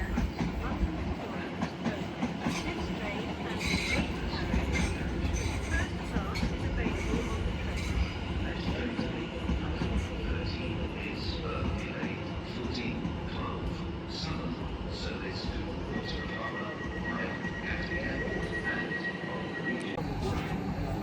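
Class 701 unit 701 033 running through Clapham Junction on a Waterloo to Reading service, a steady rumble of wheels and carriages with rail clatter, sustained and fairly close throughout, with a faint high whine near the end.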